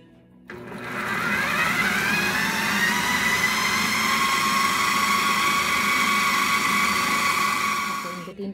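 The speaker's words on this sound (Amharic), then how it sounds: "ብለንድ እናደርገዋለን።" A kitchen blender whirs loudly for several seconds, grinding cumin, garlic, water and other hummus ingredients into a paste, its steady motor whine starting abruptly and holding even before cutting off.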